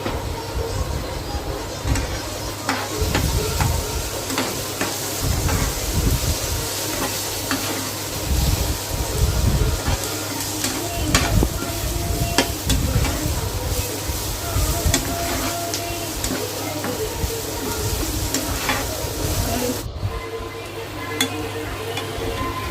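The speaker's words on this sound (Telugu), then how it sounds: "ఈ మసాలా అంతా కలుపుకోవాలండి" Masala gravy with salt and chili being stirred in a pan for an amaranth-leaf liver fry, with steady sizzling and soft scraping stirs that run continuously and close up.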